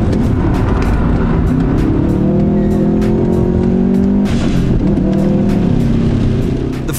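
A Subaru STI with a front limited-slip differential drifts on a wet race track, its engine roaring loud and close with rising and falling revs and tire noise throughout.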